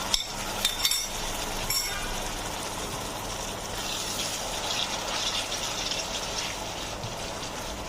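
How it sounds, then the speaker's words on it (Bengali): Sauce mixture poured into a hot pan, a few clinks at the start, then a steady gushing hiss that settles into even sizzling. "আর দিয়ে দিচ্ছি আগে থেকে রেডি করে রাখা আমার সসের মিশ্রণটা"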